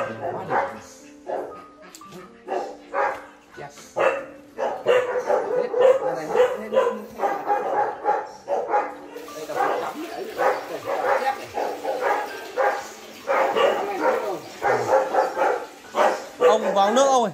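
A dog barks in short repeated bursts while several people talk around it, the barking mixed in with their conversation close by.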